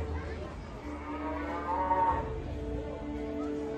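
A cow moos in a drawn-out, tonal low that swells in the middle and then tapers, heard fairly close over a quiet background hum.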